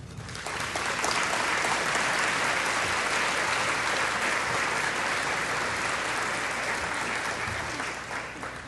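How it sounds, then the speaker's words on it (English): An audience at a chamber of commerce annual meeting and awards luncheon applauds in a dense, steady clapping that swells in and holds for several seconds before easing slightly. "Let's give another round of applause."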